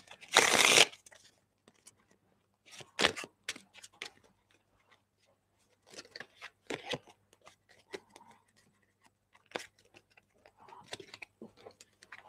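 A fresh deck of playing cards is shuffled by hand, giving sharp riffling bursts and scattered flicks and taps in irregular clusters, close and fairly quiet between bursts.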